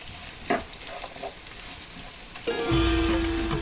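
Carrots and tamarind sauté in a hot pan for a quick bun dosa recipe, a steady sizzle broken by a few clanks of a spatula, then a louder burst of frying with a faint hum behind it.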